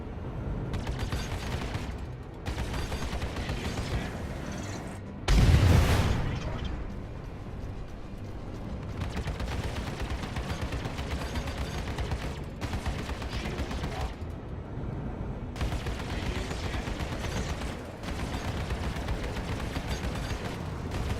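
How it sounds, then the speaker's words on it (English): Ship weapons in the Star Citizen space game fire in repeated controlled bursts, loud rattling volleys broken by short pauses, with one heavier blast standing out partway through. "Firing controlled bursts. Give your weapons time to cool, or they'll overheat."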